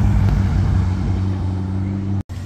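A Ferrari 812 GTS passes on a street in Monaco: a loud, steady engine roar with strong low harmonics holds for about two seconds, then a brief dropout, heard close and without talk.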